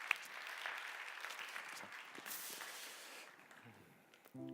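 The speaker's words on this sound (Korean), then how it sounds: "우리 큰 박수로 한번 격려하고 축복하겠습니다." A congregation at a church young adults' service claps in encouragement, faint and somewhat distant, the applause thinning out and fading near the end.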